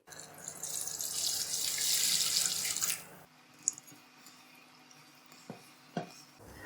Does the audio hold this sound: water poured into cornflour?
yes